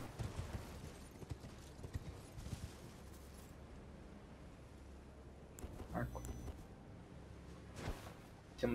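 Horse hooves clip-clop at a steady gait in the video game Elden Ring, fairly quiet, with a few louder thuds toward the end.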